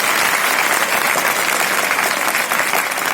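A seminar audience breaks into dense, continuous clapping, loud and close, sustained evenly throughout with no voices over it.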